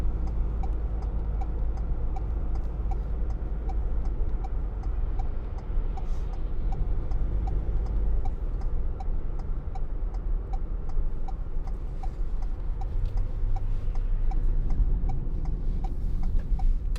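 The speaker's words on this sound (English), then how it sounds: "I'm going to start indicating early" Turn indicator of a 2019 Ford Transit Custom 2.0 TDCi van ticks in a steady, even rhythm inside the cab, heard over constant low road and engine rumble for the full stretch.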